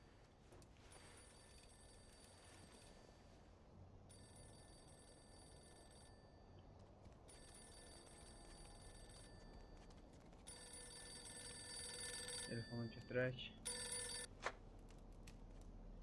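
A telephone rings repeatedly inside the video game Mafia II, a bright bell ring in steady bursts with short pauses. Ambient game sound continues underneath, and the last rings are cut off by a louder clatter.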